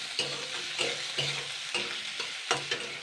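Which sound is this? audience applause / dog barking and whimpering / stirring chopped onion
stirring chopped onion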